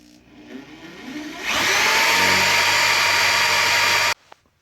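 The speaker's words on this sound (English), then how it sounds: "So now I'm going to drill the eye holes" A power drill spins up and bores eye holes in a necklace pendant, steady loud whine held for about two and a half seconds after a short ramp, then cut off abruptly.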